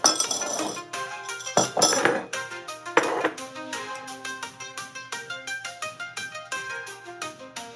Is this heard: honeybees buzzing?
no